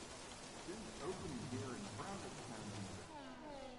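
Steady heavy rain hisses throughout, a dense wash of drops with a low engine drone beneath it, in the racing video game F1 2017.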